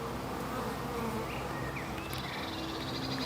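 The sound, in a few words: bees flying around a hive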